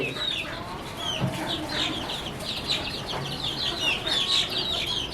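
A hen clucking in a yard with other chickens, a run of repeated bright clucks and short calls close by, continuous over a light background with faint distant sounds.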